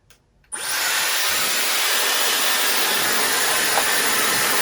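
A Dyson Airwrap styler drying hair gives a loud, steady high-pitched airflow whoosh that switches on abruptly after a brief quiet moment and then runs continuously.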